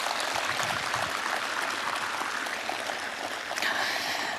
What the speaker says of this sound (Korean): 다시 한번 우창수, 김은희 그리고 개똥이 어린이예술단에 큰 박수 부탁드리겠습니다.